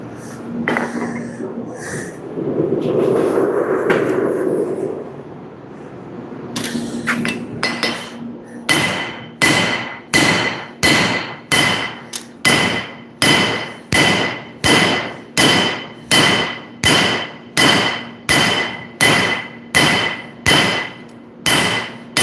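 A hammer forges a nakiri knife blade in a rapid, steady run of loud, ringing metal strikes near the anvil, following earlier scattered blows and a muffled blowing roar.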